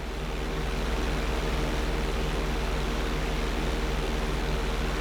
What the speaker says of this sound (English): Now roll the plane right side up